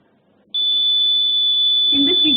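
A patient monitor alarm gives a piercing, steady electronic buzzer tone that switches on abruptly and holds continuously, with a short burst of low voice-like noise beneath it near the end.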